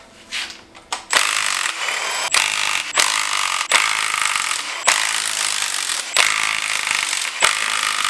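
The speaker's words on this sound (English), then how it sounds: "Now get an impact on there, zap these out." An impact wrench zaps bolts out of an E46 BMW during clutch work, with a series of loud, harsh bursts of several rattling seconds each, separated by short gaps, close up and without talk.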